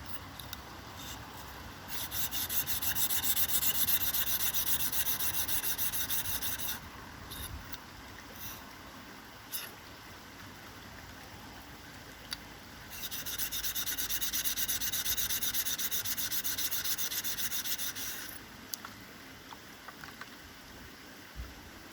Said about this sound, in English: I've got a nice convenient whetstone, so why wouldn't I use that? And we're going to begin on the coarse side again.